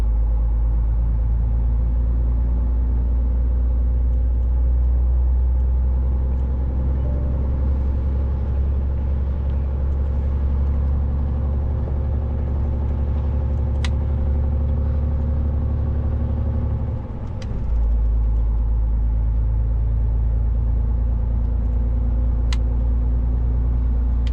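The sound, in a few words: truck climbing an uphill slope in snow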